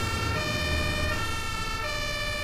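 An ambulance siren in the OMSI 2 bus simulator video game wails steadily with a continuous electronic tone over a low vehicle rumble, fairly loud and without talk.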